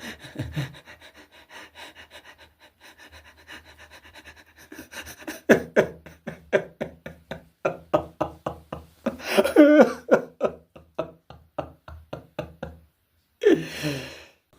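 An actor in a stage drama chokes and gasps for breath in ragged, uneven pants and heaving gulps that grow louder and more strained, with a brief pause before one last gasping burst.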